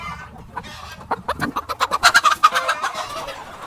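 Broody Andijan black hens cluck in a rapid, loud series of sharp notes building in intensity, close by with no talking.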